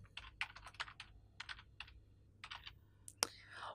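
Quick, irregular keystrokes clatter on a computer keyboard as text is typed, close and fairly quiet, with a sharper click near the end.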